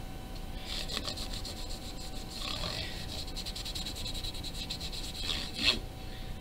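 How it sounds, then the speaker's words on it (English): A rag rubs thin varnish onto a wooden mountain banjo built from a kit, producing soft, close, continuous swishing strokes with a brief louder rub near the end and no talk. "just use the clean part of the rag to wipe the frets clean"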